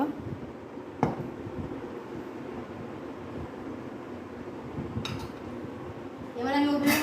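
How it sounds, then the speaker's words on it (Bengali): A karai (wok) lifted off the stove after cooking rasmalai sweets: a couple of isolated metallic clinks against a steady burner rumble, ending in a louder scraping clatter. "কড়াইটা আমি নামিয়ে নেব"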